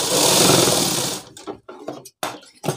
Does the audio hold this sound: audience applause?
no